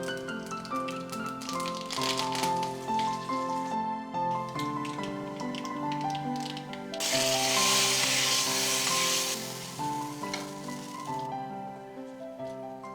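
Mustard seeds and curry leaves hit hot oil for a mint kuzhambu, producing a brief bright sizzling burst in the middle, set against steady melodic background music.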